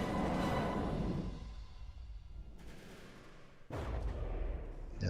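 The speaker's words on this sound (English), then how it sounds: "Those pack cannons fired again." Heavy pack cannons in the game From the Depths fire in loud, rumbling booms: a big blast at the start dies into a low rumble, then a second sharp, close report cuts in near the end.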